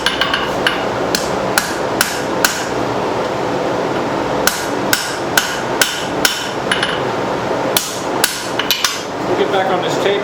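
Hammer blows forging a steel spoon taper on an anvil, sharp ringing strikes landing in irregular clusters of two to four over a steady background hum, loud and close.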